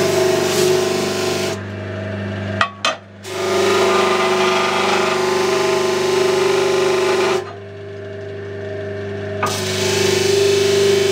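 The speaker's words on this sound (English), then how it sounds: "Okay, filing down from the zero." Wood is hand-filed on a Taylor 314 acoustic guitar: several rasping bursts of scraping cut in and out over a constant background hum, with brief pauses between strokes.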